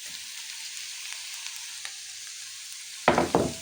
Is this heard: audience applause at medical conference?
no